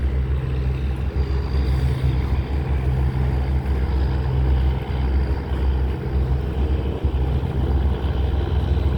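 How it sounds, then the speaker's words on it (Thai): Five tugboats towing a cargo ship through strong current on a river in Thailand, a continuous low, rumbling engine drone with some wind buffeting, steady and fairly close, no voices. "เดี๋ยวฟังเสียงเรือครับผม"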